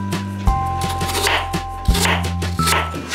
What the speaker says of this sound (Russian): Фрукты нам нужно будет мелко порезать